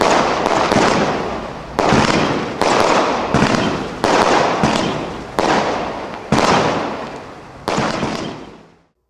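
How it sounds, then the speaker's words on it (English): Crossette fireworks, colored balls that split into four, burst in a rapid series of about seven loud cracking explosions, each booming report followed by a crackling fade before the next. "Crossettes. Colored balls explode into 4 balls going different directions."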